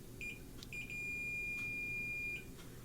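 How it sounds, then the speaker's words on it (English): A multimeter set to continuity gives a steady electronic beep while probing a fresh solder joint during repair of a Coronado 686B tube radio, one short chirp followed by a long sustained tone of about a second and a half, close and clear. "So I got my meter on beep."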